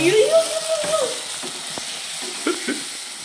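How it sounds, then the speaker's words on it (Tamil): Onions and tomatoes sautéing in a pan, heard as a soft sizzle with a few light stirring clicks, along with a brief tonal sound early on and no talking. "வெங்காயம் நல்லா வதங்கிடுச்சு இது கூட தக்காளி சேர்த்து நல்லா வதக்கிப்போம்"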